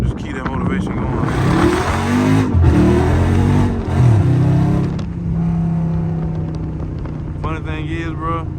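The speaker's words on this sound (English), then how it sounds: "I was just fluttering the pedal, like, to keep enough torque to spin it" A Dodge Scat Pack with traction control off revs hard with feathered throttle while its tires spin, a loud, close, rising engine roar that eases toward the end, with a person talking over it.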